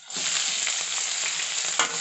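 Tapioca with green chillies frying in a pan, a dense close sizzle with light stirring scrapes and a sharper clatter near the end.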